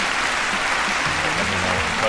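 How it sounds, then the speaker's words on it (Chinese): A crowd claps warmly at a table tennis match, a dense, sustained wash of applause that holds steady throughout, with a murmur of voices underneath. "观众也用热烈的掌声鼓励樊振东"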